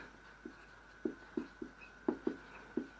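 A teacher writes out an answer, pen or chalk strokes landing in short irregular taps and scratches, close and fairly quiet against a steady faint hum.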